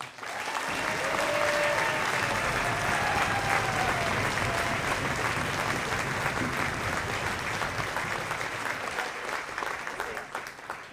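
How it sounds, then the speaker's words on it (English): A high school senior graduation crowd gives a long, steady round of applause, dense clapping from many hands filling the space at an even, sustained level before fading slightly at the end. "Let's give her one more big round of applause."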